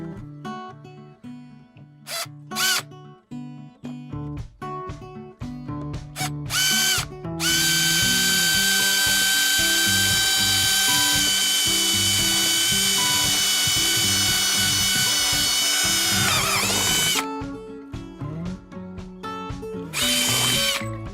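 A power drill boring 3/8 inch holes in a Hobie Mirage Passport 12.0 kayak hull for well nuts: short whirring bursts and clicks, then a long sustained loud whine through plastic that winds down, near and alone.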